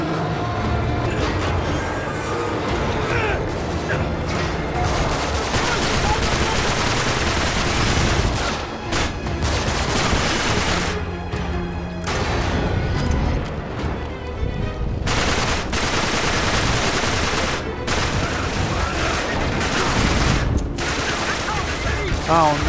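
Constant heavy gunfire inside an aircraft cargo hold in Uncharted, dense overlapping shots and crashes with a voice talking over the din throughout.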